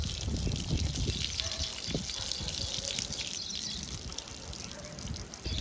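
Water from a hose or tap running steadily at moderate pressure while a rottweiler is being bathed, a continuous hissing splash close by with a brief voice under it.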